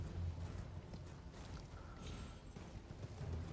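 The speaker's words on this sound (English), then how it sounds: "I love the fact that the horse has a double jump." A horse's hooves clip-clop in a video game as it gallops and makes a double jump, soft rhythmic thuds with mechanical clanks and creaks, all fairly faint.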